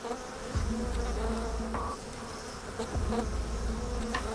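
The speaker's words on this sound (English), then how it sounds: "there's 11 million angry bees between us and that comb of honey" A huge swarm of bees buzzes around a hive, a loud continuous drone with individual insects passing close by.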